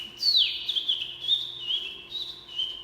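Someone whistles an imitation of birds singing in the trees, giving a close, clear series of high warbling chirps and slides that rise and fall for a few seconds.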